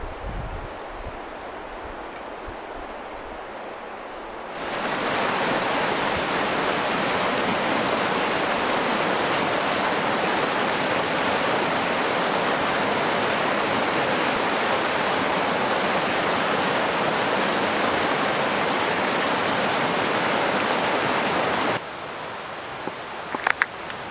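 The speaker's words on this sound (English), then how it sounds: "Nothing like some good, fresh, snow-melt river water" A fresh snow-melt river rushes in a steady, dense roar that starts abruptly, holds strong and close for most of the time, then cuts off near the end.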